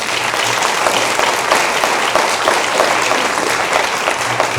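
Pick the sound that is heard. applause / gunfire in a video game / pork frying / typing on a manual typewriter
applause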